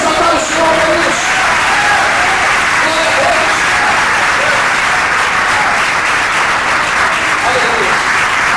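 A worship congregation applauds steadily throughout, dense sustained clapping at full level with faint cheering and voices mixed into the crowd noise.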